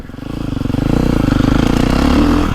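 A 2024 Beta 450RX motocross dirt bike engine runs close and loud, a throbbing single-cylinder pulse that rises slightly in pitch as it revs, with rattly mechanical clatter.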